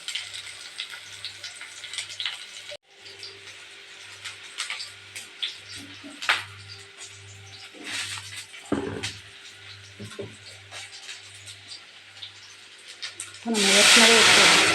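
Sambar simmers in a pot on the stove with a soft steady hiss of steam and bubbling, a regular low pulsing hum beneath it and a few small clinks, then a louder sizzling burst near the end.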